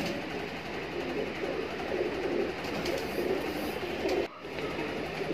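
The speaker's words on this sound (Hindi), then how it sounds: "शाहजहानपुरियों का लॉट है भाई, इसमें 9 से 10 कबूतर है।" A lot of nine or ten Shahjahanpuri pigeons coo in low, continuous, overlapping calls against a steady background hum, with a brief dip near the end.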